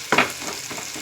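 Ridge gourd pieces drop into a frying tomato curry, giving a short burst of sizzle followed by a quieter, steady frying hiss in the pan.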